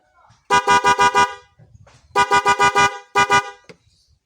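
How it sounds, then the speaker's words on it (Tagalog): A loud aftermarket horn on a Yamaha Mio i 125 motorcycle honks in rapid bursts, several quick toots, a pause, then another series of quick blasts close by. "Tumunog na ang ating busina, lakas."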